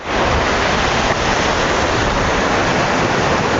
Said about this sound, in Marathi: इकडं दर्या खवळलाच